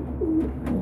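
A nesting pigeon gives a low, soft coo in two short phrases, close by and over a steady background hum.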